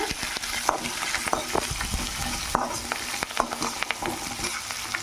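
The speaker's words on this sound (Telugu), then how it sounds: "ఉల్లిపాయ ముక్కలు పచ్చిమిరపకాయ ముక్కలు రెండు వేస్తున్నాను" Onion and green chilli pieces frying in oil for semiya upma, a crackling sizzle under frequent sharp clicks and scrapes of a spoon stirring against the pan, close and steady, no voices.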